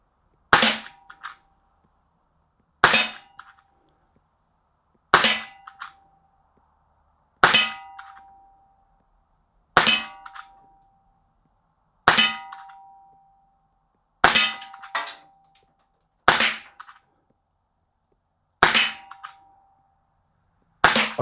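Sig Sauer P320 Spectre Comp CO2 blowback pellet pistol firing ten single shots at steady intervals of about two seconds, each a sharp crack followed by a short metallic ring, with silence between shots.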